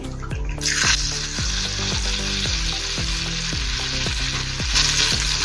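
Mung and urad dal rice batter sizzles and fries in hot oil, a dense, continuous crackling hiss close up, with occasional utensil scrapes and stirring sounds over a low, rhythmic hum.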